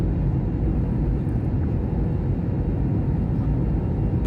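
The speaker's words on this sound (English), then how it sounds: "So we made it onto the airplane." Steady broadband cabin roar inside an airliner on a 3.5-hour flight, a constant low rumble with no talk and no change in level.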